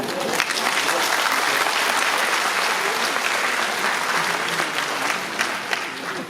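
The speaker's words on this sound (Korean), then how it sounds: "큰 박수로 환영해 주시기 바랍니다" An audience at a citizens' forum on a coal power plant in Pocheon applauds to welcome a lecturer, with loud, dense, sustained clapping throughout.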